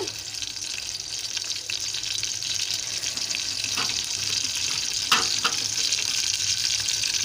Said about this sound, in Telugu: చూడండి, తాలింపుకి ఎండుమిరపకాయలు వేస్తున్నాను.